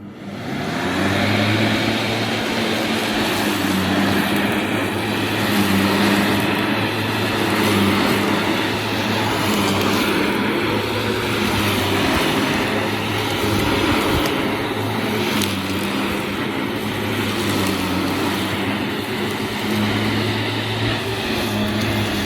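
A Hover Vac 270 hover lawn mower engine running steadily with a loud, constant droning hum and whirring fan noise, unchanging throughout, with no voices.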